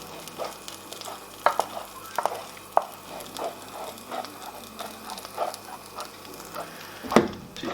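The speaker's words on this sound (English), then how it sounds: "constantly stir this until that cheddar all melts in to the white sauce that we made" A cheddar cheese sauce is stirred in a pan for macaroni and cheese, with soft repeated scraping strokes and faint bubbling, quiet and close, and a sharper knock near the end.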